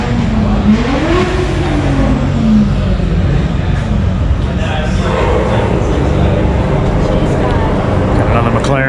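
A McLaren 720S supercar pulling in at a car event, its engine note rising and falling as it rolls past nearby, with crowd chatter and other car noise around it.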